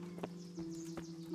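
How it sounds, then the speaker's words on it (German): Faint horse hooves clip-clopping at an even walking pace as the horse pulls a cart in the video game Kingdom Come: Deliverance, with sustained background music tones underneath. "Nur Pferde dürfen den Karren ziehen,"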